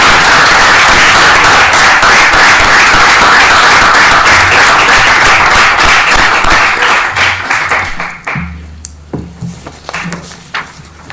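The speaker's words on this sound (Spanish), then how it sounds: "le pido un aplauso, por favor," A lecture audience claps at length in sustained, dense applause that fills the hall, then thins out and fades into a few scattered final claps.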